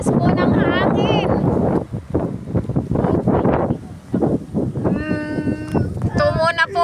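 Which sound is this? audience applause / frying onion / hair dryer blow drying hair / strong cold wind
strong cold wind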